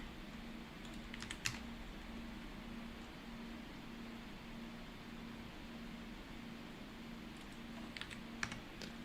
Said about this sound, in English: Here, keyboard.